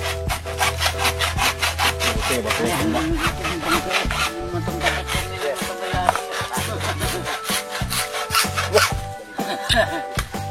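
Rapid, rhythmic back-and-forth strokes of a hand saw cutting through a pipe, loud and close, continuing steadily throughout.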